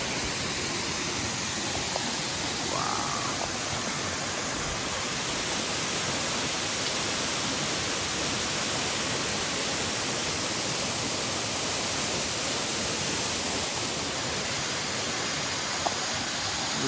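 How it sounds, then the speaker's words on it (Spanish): The Don Juan waterfalls in El Salvador roar as a continuous, dense rush of falling water, steady and fairly loud throughout with no voices. "Las cascadas de Don Juan."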